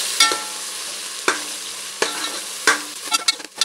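Ginger garlic paste sautés in a pressure cooker for chicken biryani, a soft sizzle broken by four or five sharp spoon scrapes against the pot at an uneven rhythm, close and alone.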